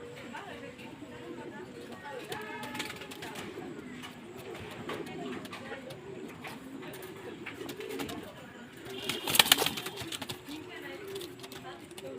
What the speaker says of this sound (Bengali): কবুতর সুস্থ সবল আছে, একদম বিগ সাইজ আছে।